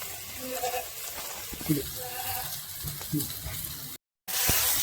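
Black pepper and garam masala sizzle steadily in hot oil in a pan for Bengali katla kaliya, a continuous frying hiss with a few stirring scrapes, cut by a brief dropout near the end.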